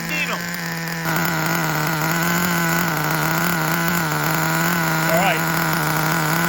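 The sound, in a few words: Traxxas Revo nitro RC engine running and settling to idle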